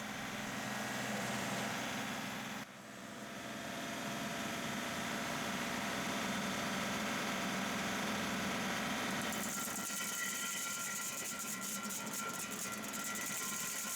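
A Woodland Mills WG24 stump grinder with a flywheel spinning at 540 RPM runs with a steady droning engine hum, dipping briefly early on, then a brighter rattling grind joins in toward the end.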